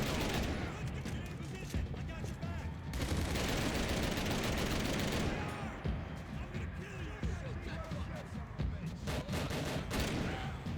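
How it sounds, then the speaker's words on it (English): Bursts of AK-47 rifle fire in the video game Max Payne 3, dense rapid shots in loud clusters with pauses between, mixed with game effects and a voice talking over it. "Let's take a look at the rifles. Give myself an AK-47."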